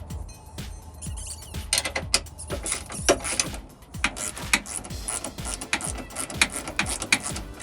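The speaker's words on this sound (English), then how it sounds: "It's just 21 millimeter socket and ratchet." A ratchet on a 21 millimeter socket works loose the rear track bar of a Jeep Wrangler JL, giving a steady run of close, sharp clicking strokes in an even rhythm.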